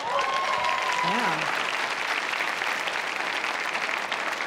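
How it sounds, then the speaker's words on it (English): A comedy club audience breaks into steady, sustained applause, loud and dense throughout, with a brief vocal interjection from the stage at the start. "You can clap for them."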